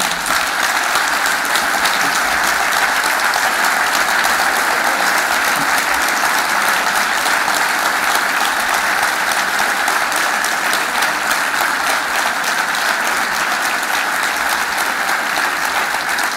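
An audience at a Mexican 2018 election campaign event bursts into loud, sustained applause, a thick and even roar of clapping that goes on unbroken for more than fifteen seconds.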